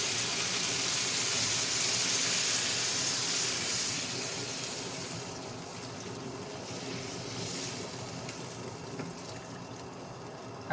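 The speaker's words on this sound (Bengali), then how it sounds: "গরম পানি অ্যাড করে দিচ্ছি।" Hot water pours into a pan of lightly fried fish curry, a broad steady hiss and rushing flow that is loud at first, then eases to a softer continuous wash as the pour tapers off.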